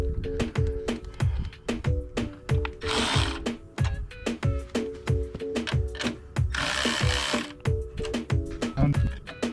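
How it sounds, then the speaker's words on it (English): A Milwaukee electric ratchet clicks in rapid mechanical bursts while the cutting height on an old lawn mower is adjusted, with short pauses between runs and some louder whirring spells, all up close. "I'm gonna use my Milwaukee electric ratchet."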